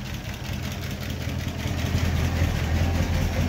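Close, steady idle from a 1936 Buick Model 60 Century engine with no exhaust leaks on the manifolds, a low continuous rumble that swells slightly in loudness toward the end.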